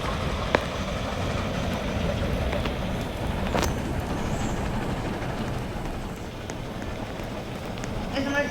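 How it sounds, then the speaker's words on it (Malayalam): A train starts up in the Roblox-style video game Dead Rails, giving off a steady rumbling, rushing noise that holds at an even level for several seconds, with a few sharp clicks over it. "നമ്മൾ ട്രെയിൻ സ്റ്റാർട്ട് ചെയ്യുന്നതാണ്."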